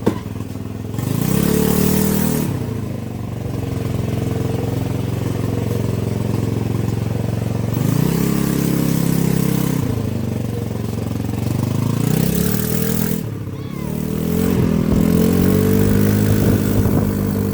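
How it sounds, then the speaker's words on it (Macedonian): A motorcycle engine fires up and revs in a few surging bursts, settling to a steady idle between them, loud and close; a brief dip near the end before it revs again. "Пали моторот бе."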